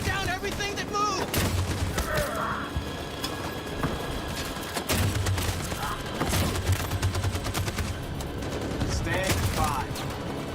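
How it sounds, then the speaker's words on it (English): Rapid machine gun bursts and scattered gunfire in the video game Detroit: Become Human, loud and continuous with mechanical clatter, under brief game voices. "That machine gun is taking down everything that moves."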